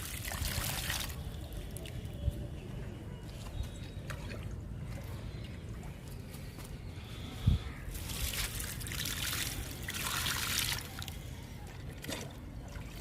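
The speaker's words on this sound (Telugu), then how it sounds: "దానిమ్మ మొక్కలకి వాటర్ ఇస్తున్నాను" Water trickles and splashes steadily into potted pomegranate plants, poured from a bucket close by, with a soft continuous flow and a single brief thump midway.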